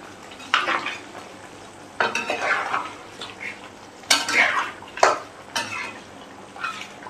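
A spatula stirs beef seasoned with palm sugar, salt, mushroom stock and pepper in a pan, several loud scraping strokes over a soft sizzle, close and spaced a second or so apart.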